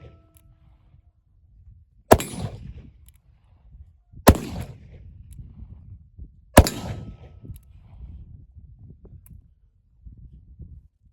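Three loud, sharp shots from a .38 Long Colt revolver firing black powder loads crack out about two seconds apart outdoors, each followed by a short rumbling echo.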